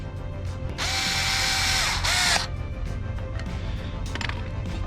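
Power tool or ratchet tightening a tire valve stem sensor, a loud whirring burst of about a second and a half with a brief second spurt, then quieter mechanical clicks nearby.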